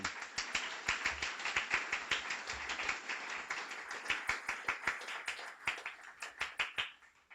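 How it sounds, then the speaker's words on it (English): At a guide dog graduation ceremony, the audience claps in a room. The clapping is moderately close and fairly sparse, with distinct individual claps that continue for about seven seconds before trailing off. "A warm round of applause for Ellen."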